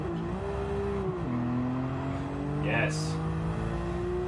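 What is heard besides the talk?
Nissan R32 GTR driving in video game Gran Turismo 7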